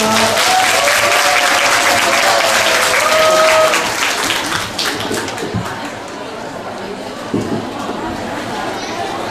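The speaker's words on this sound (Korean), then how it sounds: "큰 박수로 맞아주십시오." A lecture audience applauds loudly for a few seconds to welcome a speaker, then the clapping thins out into scattered claps and murmuring chatter.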